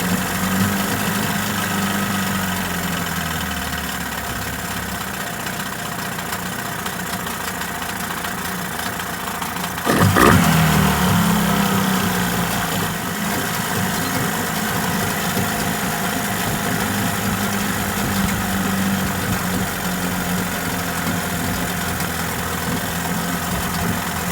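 A Mercury 15hp outboard motor idles steadily after a carburetor overhaul, a continuous mid-pitched engine drone with a brief louder swell partway through, heard alone without voices.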